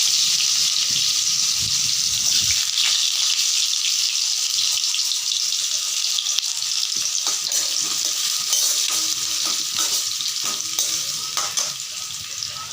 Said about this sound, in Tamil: இப்போ வெங்காயத்தில் நல்லா வதக்கி எடுத்துக்கலாம்.